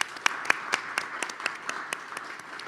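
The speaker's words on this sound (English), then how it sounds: "can I have the audience just give a big round of applause for the staff for putting this together?" A meeting audience claps for the committee staff, with sparse, distinct handclaps spaced about a quarter second apart, moderately loud and steady throughout.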